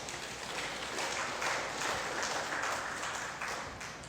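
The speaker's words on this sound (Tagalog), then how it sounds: "Palakpakan natin si Jesus." A church congregation applauds for Jesus during a Filipino sermon on gratitude, a sustained crowd of many hands clapping at steady loudness throughout, swelling slightly in the middle.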